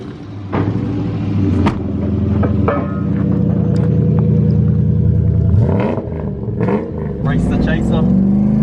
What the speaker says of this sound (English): someone to drive his V8 surf home